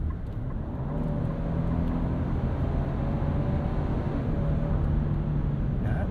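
A 2025 Nissan Armada with a 9-speed automatic accelerates hard on kickdown, its engine a steady, muffled drone heard from inside the cabin, building slightly and holding throughout with no talking.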